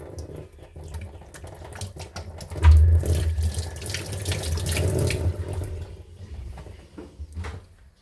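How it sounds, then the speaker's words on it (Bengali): Hands being washed under a running water tap at a home sink, a steady close splashing stream that swells midway and continues alone without talk. "হাতটা ধুয়ে নিই।"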